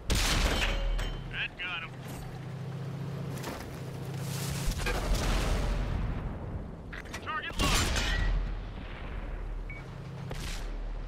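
Tank cannon fire in World of Tanks on Xbox One, with heavy booming shots and rumbling blasts repeating over a constant mechanical engine drone.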